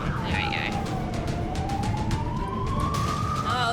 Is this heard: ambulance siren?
yes